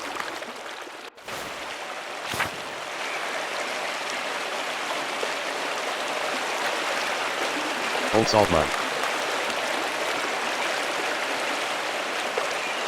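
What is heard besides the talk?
waterfall in the video game Pentiment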